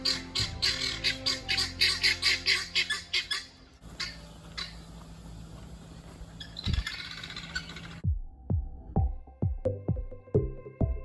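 Several birds call outside a school in Australia: loud, rapid rhythmic squawks at first, then a rougher chattering stretch and a few sharp calls, ending with a run of short repeated clucking notes, close and with no talk.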